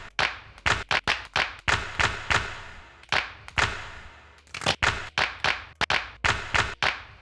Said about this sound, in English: Man, that's a slow clap.